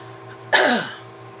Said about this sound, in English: Sorry for all the coughing today. It's a coughing day.